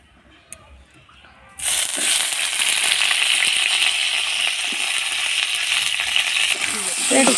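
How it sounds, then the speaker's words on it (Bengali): Flat beans and carrot hit hot oil after a quiet moment with a few small knocks, bursting into a loud, close sizzle that keeps going evenly, with light scraping clicks from stirring. "তেলে দিলাম, সিমটা ভেজে নিই, সিম দিয়ে গাজরটা ওই দুটো দিয়ে একসঙ্গে ভেজে নিলাম"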